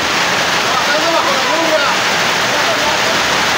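Heavy rain falls at night over a dairy milking barn in a constant, loud roaring wash, with a voice faintly audible beneath the downpour.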